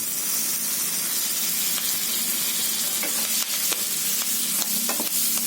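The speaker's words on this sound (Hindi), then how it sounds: "दो से 3 मिनट अच्छी तरह से भून लेते हैं।" Ground spices and green chilies fry in oil for a lemon and green chili pickle, a loud steady sizzle throughout with a few faint stirring clicks.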